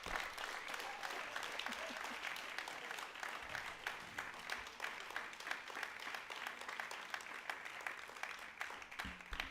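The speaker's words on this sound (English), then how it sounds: "Please fill the air with a big round of applause." Graduation ceremony crowd applauding the class of 2020 and 2021, a sustained, even roar of many hands clapping that carries on for several seconds without pause.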